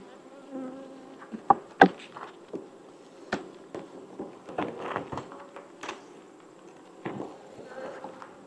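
Honey bees buzz in scattered bursts as a beehive is cracked open for a checkup, with irregular knocks and scrapes of hive parts mixed into the close droning.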